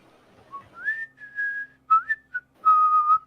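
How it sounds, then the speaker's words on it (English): A woodcarver whistles a wandering tune to himself, with clear sliding phrases broken by short pauses, close and alone with faint low background noise. "You hear this person whistling to himself."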